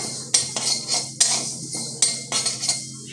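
Mustard seeds stirred in a hot wok with the gas off, metal utensil scraping and clinking against the pan in several irregular bursts, close and fairly loud with no voices.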